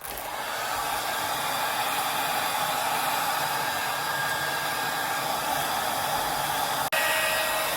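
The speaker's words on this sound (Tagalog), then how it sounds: "Let's blow dry." Handheld hair dryer blowing steadily on freshly shampooed hair, a close, continuous airy roar with a brief dip near the end, no talking.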